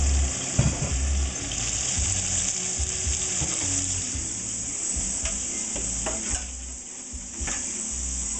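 Shrimp and broccoli frying in an overloaded pan, a dense steady sizzle with scattered clicks and stirring knocks, close and fairly loud, with no talk.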